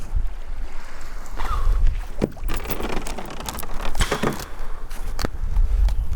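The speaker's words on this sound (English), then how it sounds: "It's blowing a gale, man. Pretty big waves." Gale-force wind buffets and roars over open water with big waves, with constant rushing noise, splashing, and scattered knocks and thumps close by on a fishing trip.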